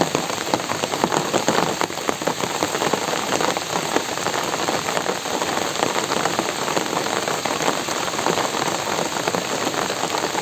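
Steady rain patters down on surfaces nearby at a river, a dense continuous hiss with scattered louder drops, no voices.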